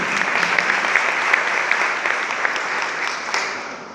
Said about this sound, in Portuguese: Vamos aplaudir a palavra de Deus da festa solene de Santo Antônio.